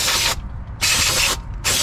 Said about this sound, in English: Give it another good spray while you're at it.